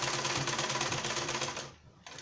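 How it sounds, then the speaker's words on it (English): A sewing machine stitches a two-piece standing shirt collar along a half-inch seam allowance, running in a steady, fast mechanical chatter for most of the moment before stopping abruptly, then a brief restart of motor noise. "I'm going to start sewing the collar right from the base by the half-inch seam allowance"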